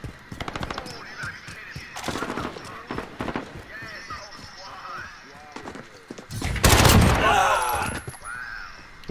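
Rapid automatic gunfire in Call of Duty Modern Warfare hardcore domination, short repeated bursts throughout and a louder cluster of shots and impacts toward the end, with someone talking between volleys.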